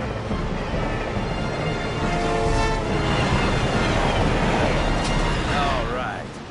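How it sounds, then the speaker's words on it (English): An animated train rumbles steadily past at close range, a loud continuous roar of wheels and carriages with faint squealing toward the end. "Train coming in the opposite direction."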